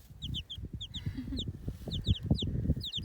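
Young chickens just growing their white wing feathers peep and cluck in quick repeated bursts, close by, with soft rustling and shuffling underneath.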